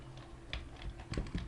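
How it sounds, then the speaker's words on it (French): A few faint clicks come from a computer keyboard while someone types text and presses Enter, landing as scattered soft taps over a low steady background hum. "je tape sur Enter, j'écris ceci"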